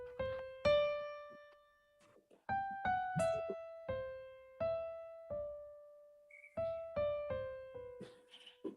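A piano played legato with the sustain pedal, each sustained note ringing into the next in a smooth, connected line, about a dozen notes struck at a moderate pace with no gaps between them, close and clear.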